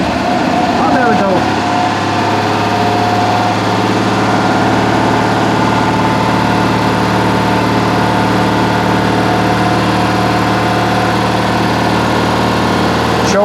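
Citroën AZU van engine idling steadily just after starting, a low even drone with a slight knock early on, close and continuous.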